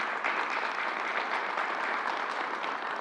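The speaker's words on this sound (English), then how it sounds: "let's give them a round of applause" Audience applause at a government press briefing in New York City, a steady, moderately distant wash of many hands clapping with no voices over it.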